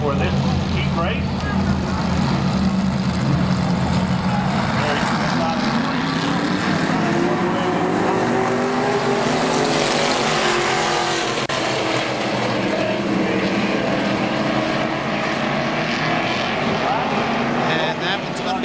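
Race cars at KilKare Speedway roar through the field in an eight-lap heat race on the Fourth of July, a loud sustained engine din with pitch swelling and falling as cars pass, while an announcer talks over it.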